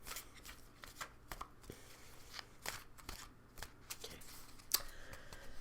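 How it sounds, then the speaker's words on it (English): A tarot card deck being shuffled and cut, with soft, irregular riffling and flicking of cards close by, with sharp ticks and papery bursts and no talking. "Now, we need to cut the deck in half."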